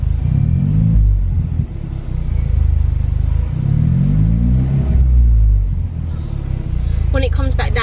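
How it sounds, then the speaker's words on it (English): A car with a Scorpion exhaust idles and blips its revs with the window open, a deep close rumble swelling twice, before a voice starts talking near the end. "So this is car idle with the window open."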